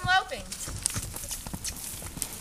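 A horse loping under saddle, hooves clip-clopping in a quick rhythmic beat at close range while a person talks over it.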